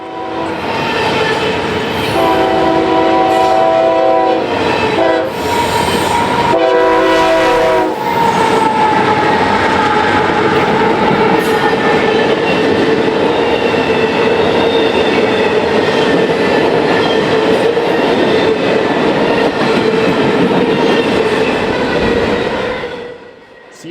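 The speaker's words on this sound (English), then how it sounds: "The train is meeting CSX IO10, a priority train bound for the East Coast." CSX intermodal freight trains meet at Pine Junction, a busy rail crossing near Chicago, with sustained loud rumble and wheel noise over roughly twenty seconds and several blasts of a train horn.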